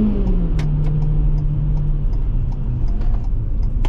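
A 2-liter engine in a 2023 Ford Transit Connect long-wheelbase van revs up and then settles. The hum rises, falls and sustains as a loud, close mid-range drone with a slight pitch shift and some light clicks and knocks on top.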